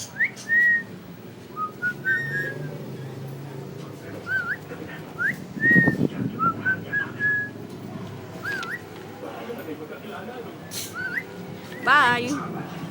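A cockatiel in a pet shop whistles a series of short rising and falling chirps, scattered and clear, with people talking nearby throughout.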